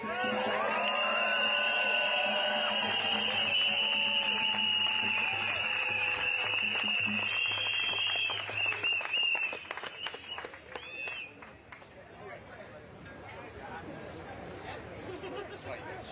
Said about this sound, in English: give another round of applause for our Reverend Graham Hadley.